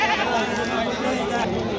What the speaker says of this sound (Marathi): मेंढे पण येतात मोठाले मोठाले मेंढे